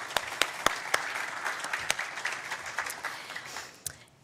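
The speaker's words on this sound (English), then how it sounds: "can we just have another round of applause for Dr. Burstyn?" A crowd claps steadily, with a few sharper individual claps standing out near the front, fading slightly toward the end.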